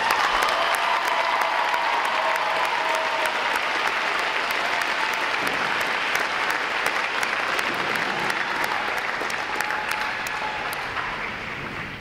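Large audience at a U.S. Navy Recruit Training Command graduation applauds the graduating recruit divisions, a dense, steady wash of clapping that holds strong for the full stretch and only begins to thin slightly at the very end.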